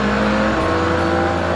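Ferrari Enzo with its 6-litre 660-horsepower V12 revving hard, a loud, steady, close engine roar whose pitch shifts partway through the short burst.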